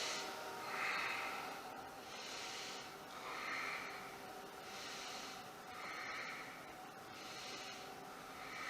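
Slow, rhythmic breathing during a yoga pose, with soft breathy inhales and exhales repeating about every one to two seconds, close and quiet with no talking.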